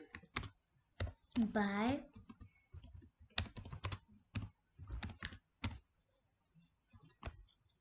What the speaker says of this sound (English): So let me type bird puzzle.